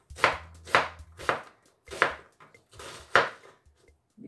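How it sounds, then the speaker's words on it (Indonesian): A knife chops a large onion on a cutting board, about six firm, evenly spaced strikes close up, with no speech. "Jadi bombaynya dipotong"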